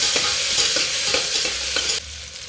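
Chopped tomatoes fry in aloo kurma masala as a spoon stirs them, loud close scraping strokes in a quick rhythm over a steady sizzle that thins out near the end.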